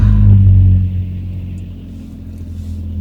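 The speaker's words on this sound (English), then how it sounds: "I stopped because the car is pulling out." A car engine rumbles low and close, swelling briefly and then settling into a steady drone as the vehicle moves off.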